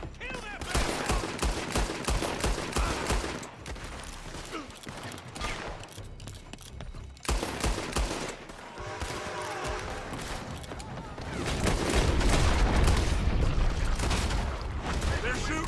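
Enemy gunfire crackles in a Red Dead Redemption 2 gunfight, dense overlapping shots and bursts that run continuously, loud and close, with a heavier roar building near the end, while shouted voices cut in over the shooting.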